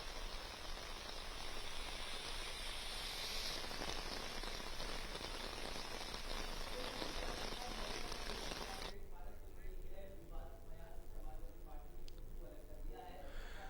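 Light rain falls steadily in Bhiwani, Haryana, a dense, continuous patter across the whole stretch that thins out partway through, with a news presenter talking over it.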